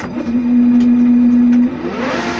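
A machine-tool motor on a frequency inverter runs at high revs, giving a loud steady electric whine that holds a constant pitch, then drops away and shifts to a rising tone near the end.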